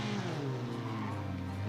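A 1970s Citroen with a tinny exhaust revs steadily in the BeamNG driving game, a buzzy, nasal engine drone with harmonics that climb and sway across the short stretch, close and loud with no talking.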